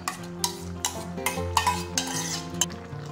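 Kootu thickened with ground coconut paste is stirred in a pot over a low flame, with repeated close scrapes and soft metallic clinks of a spoon against the pot at an uneven rhythm.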